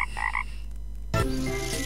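A single loud, close frog croak rings out, preceded by a short, faint warbling sound.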